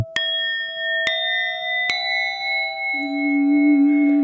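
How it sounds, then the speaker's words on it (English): Three bright bell-like chime strikes ring out alone in quick succession, each leaving a long sustained ringing tail, followed by a low steady hum. "Can I get a little chime?"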